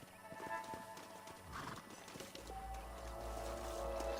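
Horse hooves clip-clop in a slow walking rhythm at moderate distance in the video game Red Dead Redemption, with a low rumbling drone building in the background.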